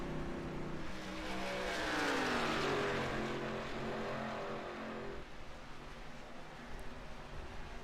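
Race cars in an iRacing oval race at Michigan roar down the back straightaway, a loud engine drone that swells as they pass and then settles into a steady hum, with no talk over it.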